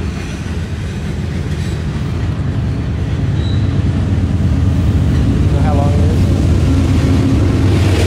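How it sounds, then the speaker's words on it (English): A loud freight train with distributed power locomotives mid-train rumbles past close by in Kelly, Kentucky, heavy locomotive drone and rolling wheel noise filling the whole stretch, with a faint squeal midway. "Heard the two DPUs in the middle of the train."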